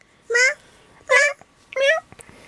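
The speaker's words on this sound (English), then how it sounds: "Is that kitty?" A cat meows three times in quick succession, with clear, close, drawn-out calls separated by short pauses.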